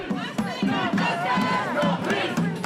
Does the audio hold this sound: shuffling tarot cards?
no